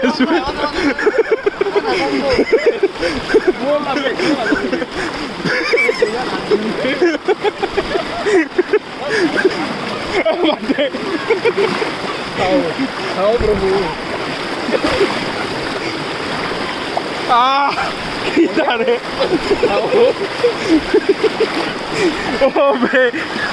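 A fast-flowing river at Daragaon where people are crossing the water: a constant rushing splash and gurgle of strong current, loud and close, with people talking over it throughout.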